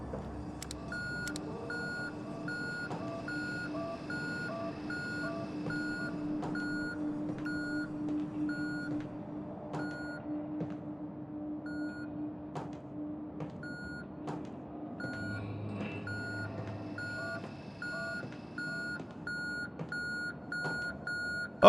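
A beeping device in the horror game Conarium repeats a steady electronic bleep at regular intervals over a low ambient drone, lasting the whole stretch with no speech.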